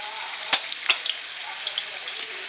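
Garlic frying in oil in a pan for green chili pickle, a bright close crackle and hiss with a few sharp pops and spatters over a short stretch.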